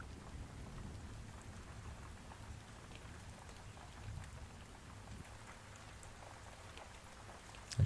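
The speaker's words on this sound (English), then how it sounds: "The rain sounds hella relaxing." Steady rain with rumbling thunder, an even close hiss of drops over low rolling rumbles that swell now and then, heard alone without any talking.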